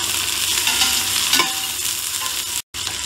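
Three large onions, sliced long, fry in oil with cinnamon and cardamom for mutton biryani, a close, steady sizzle with a stirring scrape partway through and a brief dropout to silence near the end.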